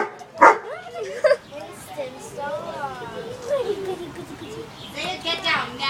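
A dog makes a few sharp yips and barks between whimpering, whiny vocal sounds, close and fairly loud, alongside other light background noise.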